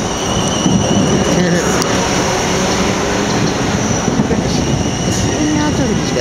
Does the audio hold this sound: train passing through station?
yes